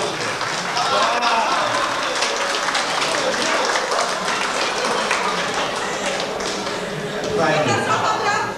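Crowd applause at a CB radio enthusiasts' party, held in Kuźnica Zbąska near Boruja, Poland: steady, dense clapping sustained throughout, with a noisy roomful of voices mixed in beneath it.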